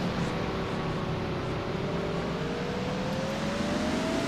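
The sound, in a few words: race cars driving in a sim racing video game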